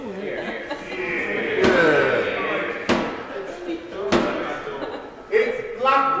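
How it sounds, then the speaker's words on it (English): The Commons chamber door in the British Parliament slams shut with loud, sharp wooden bangs, three heavy knocks in a row, while voices and murmuring laughter fill the room. "Close the door!"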